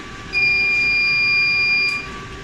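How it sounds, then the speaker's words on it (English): A steady high-pitched electronic beep from a radio frequency skin treatment device sounds for about a second and a half, loud and close, then cuts off. "You'll hear the beeping to stop."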